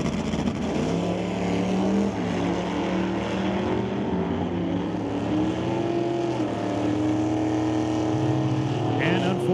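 A 1967 Cuda and a 1966 Mercury wheel-stand car at a drag race make a loud, steady engine roar that holds for several seconds, its pitch climbing gradually as the run continues.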